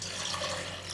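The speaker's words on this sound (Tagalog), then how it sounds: "maglalagay tayo ng 1 at kalahating tasa ng tubig sa maliit na kaserola" Water pours steadily into a small saucepan, a soft continuous trickling and splashing that stays even and close for its full short length, with no talk over it.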